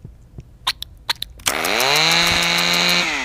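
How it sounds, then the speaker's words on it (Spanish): A toy chainsaw from a Simpsons episode starts after a few light clicks and then runs with a steady, loud buzzing whine that holds for nearly two seconds before easing slightly. "Motosierra de juguete."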